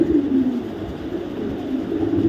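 Soft, low cooing from a pair of Mili racing pigeons, repeated murmuring coos close by over a dull steady background rumble.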